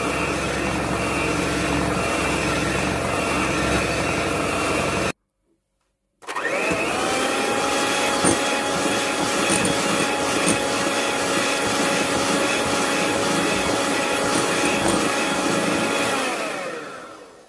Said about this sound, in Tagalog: it should be mixed at least 8 to 10 minutes by electric beater